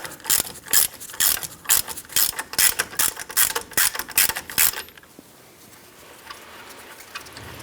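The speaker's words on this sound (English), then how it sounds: "Now we just switched over to our ratchet. Speed things up a little bit." A hand ratchet loosens a nut on the front lower ball joint of a 1997–2006 Jeep Wrangler, giving a steady run of about a dozen sharp, close clicking bursts before falling to quiet rustling.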